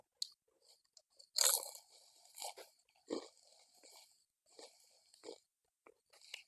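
Someone chews crunchy fermented food close to the ear, with a loud first bite followed by a run of wet, crackling crunches at irregular intervals and quiet gaps between them, with no speech.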